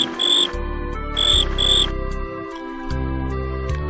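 Electronic cricket chirps from an educational alphabet game for children play in two bright repeated bursts over a steady synthesized music backing, loud and close.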